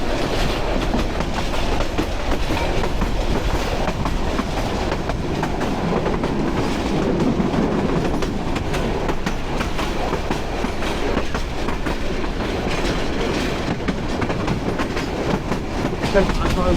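Kishoreganj Express, a Bangladeshi intercity train, rumbles along the rails with a constant loud roar and faint rhythmic clatter of wheels, heard from on board or close by for the whole stretch, with some voices underneath.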